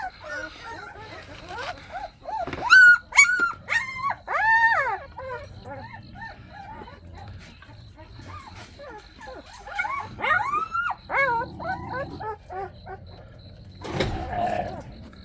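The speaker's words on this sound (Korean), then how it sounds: "백향이 강아지들 귀여운 모습 찍어보았습니다." Several puppies whimper and yip in high, wavering cries, coming in bursts with brief quiet stretches between them, fairly close by.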